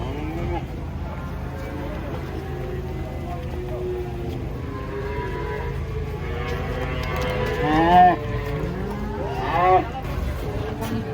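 Cattle, including a young calf, being unloaded from a truck, moo repeatedly over steady background noise, with two louder, closer calls standing out near the end; voices can be heard in the background.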